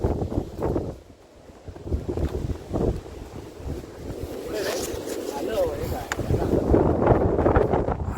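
On a forest trek near Choravane in Ratnagiri, wind blows through the trees in rushing gusts that rise and fall, with buffeting against the microphone. A voice speaks over it at times.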